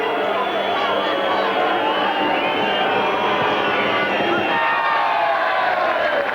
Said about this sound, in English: The crowd doing their best to put him off.